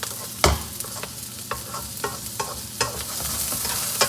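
Aromatics toasting in a hot oiled pan for a chicken heart stir fry, a soft steady sizzle broken by repeated scraping clacks of a utensil stirring at an uneven rhythm, close and alone.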